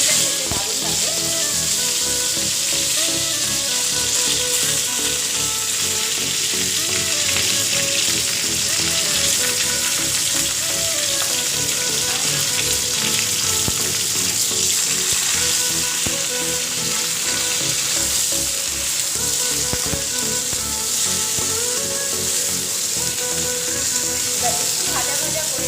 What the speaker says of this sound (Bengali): ভাজা ভাজা করে নেব শিমগুলোকে।